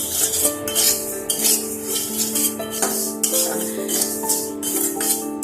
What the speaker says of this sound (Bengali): শুকনো ডালিয়াটা একটু সময় নিয়ে ভেজে নেব।